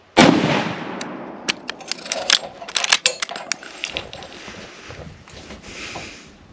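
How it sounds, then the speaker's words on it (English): An old rifle is fired while deer hunting outdoors, a loud sharp crack near the start followed by a scatter of quick clicks and knocks from handling the gun, and no voices. "I'm going to shoot two times."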